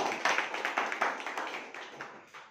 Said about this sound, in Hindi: तो एक बार जोरदार ताली, ठीक है,